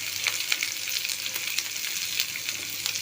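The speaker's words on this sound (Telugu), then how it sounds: "ఉల్లిపాయ ముక్కలు వేసుకుందాం ఈ ఉల్లిపాయల్లో కొంచెం పసుపు యాడ్ చేసుకుందాం" Onion pieces sizzle and crackle steadily in a hot pan with a pinch of turmeric, small pops scattered over a continuous frying hiss; no talk.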